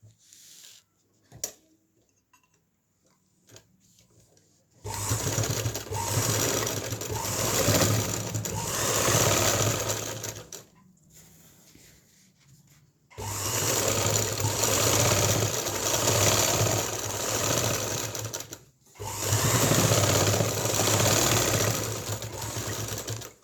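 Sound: sewing machine stitching the final seam of a salwar cuff

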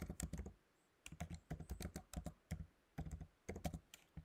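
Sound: typing code on a computer keyboard

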